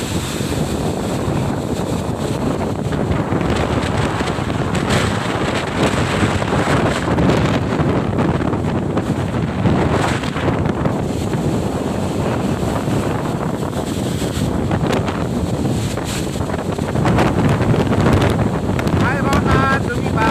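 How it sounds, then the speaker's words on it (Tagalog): Loud, continuous wind roars and buffets straight into the microphone outdoors for the whole stretch, with gusts swelling and easing in rough surges and a little speech faintly underneath. "Grabe lakas ng hangin."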